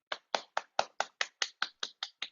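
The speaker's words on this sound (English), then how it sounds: "with a huge round of applause" Eleven sharp, evenly spaced hand claps from a single person, close to the microphone, heard alone during a virtual meeting.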